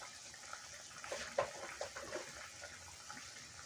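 Water poured into a bowl coated with leftover spice paste while cooking a Bengali fish curry with spinach, a soft splashing trickle with a few brighter splashes near the middle, close and fairly quiet, no talking.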